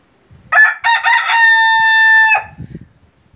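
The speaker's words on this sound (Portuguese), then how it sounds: "Mostrando pra você ver aí como ele canta bem bacana. O galo polonês." A Polish breed rooster crows loudly and close by: a stuttering start, then one long sustained call, followed by a few soft clucks.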